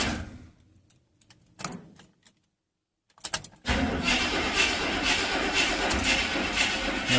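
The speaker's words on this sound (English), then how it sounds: "the starter motor will just keep on cranking over" Starter motor on a Chevy stuck cranking without stopping: a few short clicks and bursts, then a loud, steady, continuous whirring crank that runs on unbroken to the end, with no speech.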